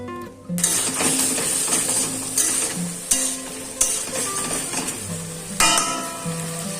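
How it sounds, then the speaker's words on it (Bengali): Masala for oil-free vegetables sizzles steadily in a pan while a spoon scrapes and knocks against the metal at irregular intervals, close and continuous, with no talk. "হালকা ড্রাই ড্রাই হয়ে গেলে মশলাটা কষিয়ে নেবো ভালো করে ফ্রাই করার পর এর মধ্যে জল দিয়ে দেবো"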